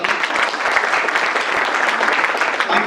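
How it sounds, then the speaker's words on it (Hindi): A crowd at a poetry recital honouring the Galwan soldiers bursts into loud, dense, sustained applause that fills the room evenly throughout. "एक बार गलवान के बलवान के सम्मान में एक बार जोरदार ताली"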